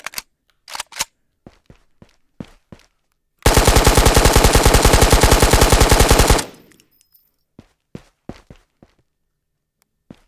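AK-74 firing full-auto in the video game Ghosts of Tabor, one sustained burst of about three seconds with rapid, evenly spaced shots, loud and close, framed by scattered clicks and footsteps before and after.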